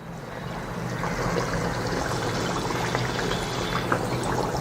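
Adhirasam dough fries in moderately hot oil in a kadai, a dense steady sizzle and bubbling that holds close and even throughout with no voices.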